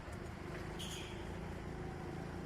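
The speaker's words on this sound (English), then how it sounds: "Kart's still warming up." A rental go-kart engine at an indoor karting track hums and drones steadily while warming up, a continuous even motor tone with a brief higher rasp near the start.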